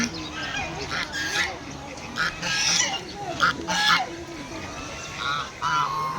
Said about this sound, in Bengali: এখানে মাছের সাথে বেশ কিছু হাঁসও আছে।